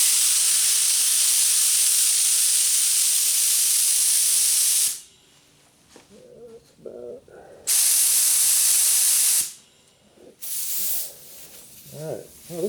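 A spray gun with a 2.2 tip blasts 2K paint onto the door jambs of a 1977 Camaro Z28 in loud, steady hissing bursts, separated by quieter gaps where people talk.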